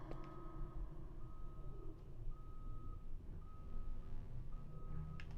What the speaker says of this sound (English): Alarm on a truck, it still works.